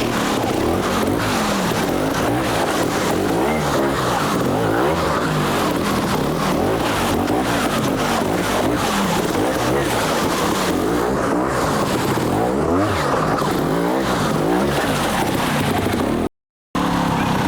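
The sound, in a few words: trials motorcycle riding on brand new tyres in third gear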